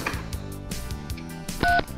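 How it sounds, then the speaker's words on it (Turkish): Telephone keypad tones beep in a quick sequence during a toy cafe play scene, each dialed digit a short clear electronic tone with brief gaps, close and moderately loud over faint background music. "Ben hemen arayayım o zaman."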